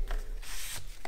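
Two handmade pop-up paper cards are opened, producing a brief close rustle and papery scrape as the folded paper unfolds, loud and alone.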